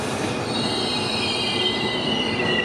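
Alstom locomotive 4224 hauling a full passenger train on the southern line, rounding a right curve toward Bang Sue, with a steady high metallic wheel squeal over rolling rumble, close and loud.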